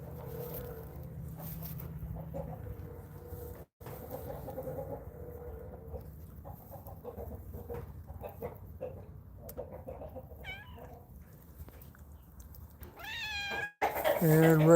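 Cat meows, a couple of short rising calls near the end, close and fairly clear over faint farmyard background and a quiet voice.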